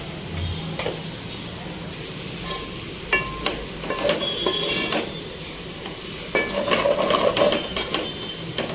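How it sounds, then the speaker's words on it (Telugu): Potato pieces sizzle steadily as they are stirred and fried with salt and chili powder in a pan, while a spoon scrapes and clinks against the metal now and then over the continuous frying hiss. "ఉప్పు కారం ఆలు ముక్కలకు మంచిగా పట్టేటట్టు కలుపుకోవాలి"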